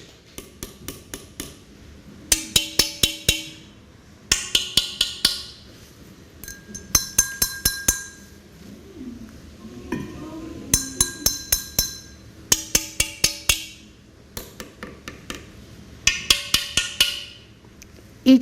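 Freshly kiln-fired pottery pieces are tapped one after another, giving bright, ringing glassy clinks in quick bursts of several strikes separated by short pauses, each piece ringing with its own tone, close and clear.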